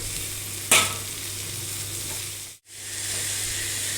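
Tomato dropped into a pan of frying onion and curry leaves for radish curry, a sharp splash and burst of sizzle, then steady close frying hiss, briefly cut out before resuming, no talking.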